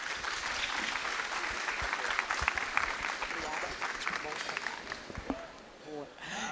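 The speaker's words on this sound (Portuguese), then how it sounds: "vamos receber agora Daniela Valadão com uma salva de palmas" An audience at a jewelry retail trade fair in a conference hall applauds to welcome a speaker, sustained even clapping at moderate distance that tapers off at the close.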